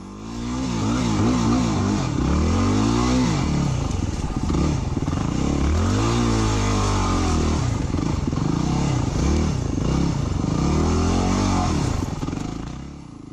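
A motorcycle engine revs steadily and loudly throughout, with rising and falling throttle sweeps as the rider circles in a small spot before a snowstorm; no voices.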